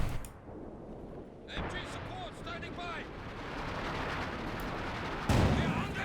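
Artillery barrage in the World War II strategy game Company of Heroes 2, a continuous wash of rumbling gunfire and blasts with a heavy impact near the end, under a commentator's voice.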